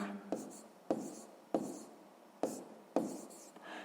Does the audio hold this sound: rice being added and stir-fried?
no